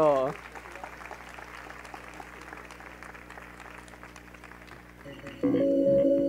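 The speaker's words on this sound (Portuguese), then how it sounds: "Vamos receber com uma calorosa salva de palmas, Carlos Ferreirinha, bem-vindo!" Steady applause from a conference audience welcoming a speaker runs for several seconds, then gives way to a louder burst of tonal sound at the end.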